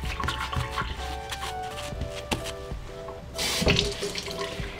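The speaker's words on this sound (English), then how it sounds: "Then you're going to wet this sponge and rub it on top." Tap water at a sink wets a craft sponge, with running and dripping water, scattered small splashes, and a louder rush of water near the end.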